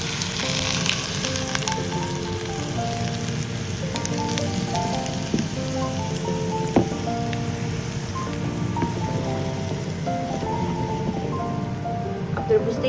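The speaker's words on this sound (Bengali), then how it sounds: "আর এই উপকরণটার মধ্যে আমি অ্যাড করে দিব একদম ফুটন্ত গরম তেল।" Boiling hot oil hits chili powder, sesame seeds, garlic and ginger with a dense, sustained crackling sizzle like rain on a surface, scattered pops throughout, and a voice speaking over it.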